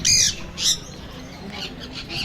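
Two sharp, loud parrot squawks in quick succession, followed by softer, fainter squawks from farther off, from a flock of 10 to 30 parrots.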